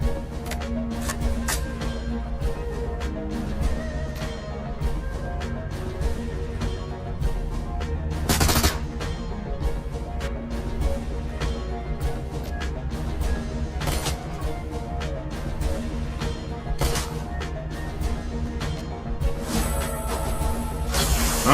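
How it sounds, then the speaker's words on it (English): Rapid combat in the video game Shadowrun: Hong Kong, with dense repeated gunfire bursts and a few heavier explosive blasts, including one around the middle, loud and sustained over a game soundtrack. "Another grenade!"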